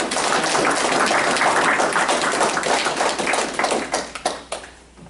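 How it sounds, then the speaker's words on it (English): An audience at an evening event applauds staff with a dense round of clapping that stays strong and close, then thins into scattered final claps and fades out. "So please join me in giving them a round of applause"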